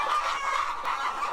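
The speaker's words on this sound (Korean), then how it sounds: "닭 2만 수를 기르는 이 농장" Clucking chickens on a poultry farm holding twenty thousand laying hens, a steady dense chorus of many birds heard up close with no voices over it.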